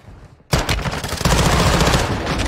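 Video game gunfire erupts suddenly and continues as a dense, sustained burst of rapid automatic shots, loud and close, with no talking over it.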